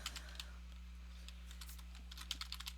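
Fingers type text on a computer keyboard, a faint, irregular patter of key clicks in short bursts, close by in a quiet room.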